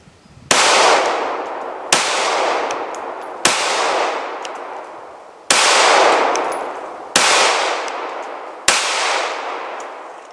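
An M&P Shield pistol firing hollowpoint rounds at a steel target, with six loud sharp shots spaced about one to two seconds apart, each followed by a ringing clang from the steel plate and no talking.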